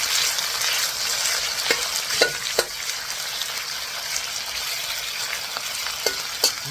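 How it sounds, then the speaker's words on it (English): Spicy Mongolian beef stir-fries in a hot pan with a steady, loud sizzle, broken by a few sharp clinks and scrapes of a utensil against the pan, with no talking. "You want to get that even cooking by stir frying."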